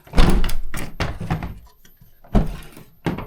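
The hatch door of a Subaru is pushed shut, giving a few close, heavy thunks and clunks with brief rattles between them.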